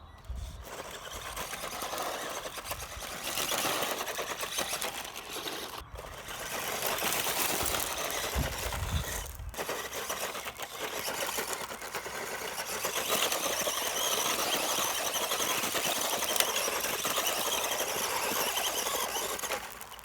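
A Tamiya Ranger radio-controlled car drifting, its electric motor whining loud and steady with brief pauses and surges as it spins and turns, no voices.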